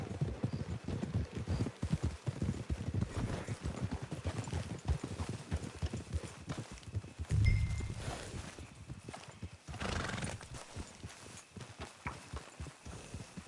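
A horse in the video game Red Dead Online walking near a camp, its hooves clip-clopping in a steady, close rhythm that runs throughout, with a brief snort and a few louder stomps partway through.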